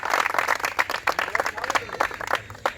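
Applause breaks out for a student of a physical training academy in Nalanda district, with scattered claps and crowd noise rising and falling over about three seconds, mixed with talk.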